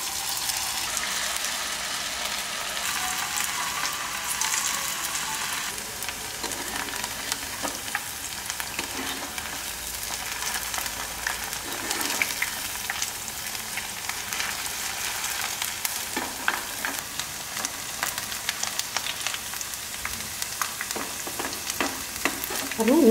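Steady, bubbling sizzle of ivy gourd frying in hot oil, close by and continuous, with occasional crackles and pops.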